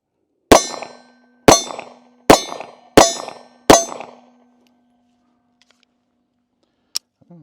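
Five sharp pistol shots from a Bodyguard 2.0 handgun, fired at a steady pace about a second apart, each loud with a short ringing decay, followed by a faint click near the end.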